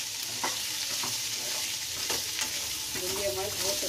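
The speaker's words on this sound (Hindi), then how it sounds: "और थोड़ी भिंडी दो मिनट भूनते हैं" Okra and onion fry together in a pan for bhindi masala, a dense continuous sizzle with light scraping stirs, close and fairly loud, with no talk.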